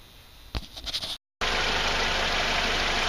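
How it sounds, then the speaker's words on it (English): A Mercedes W202 car engine runs steadily after a 722.6 automatic transmission fluid and filter change, first a brief clunk and rumble, then a sudden loud continuous roar after a short gap, heard close with no talking. "I'm going to start the car, and then we'll take the final measurement"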